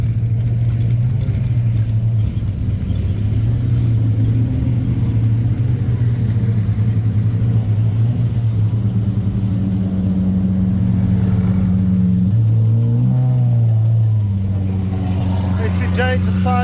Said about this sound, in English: The Countach on the move as well. Diablo SV going.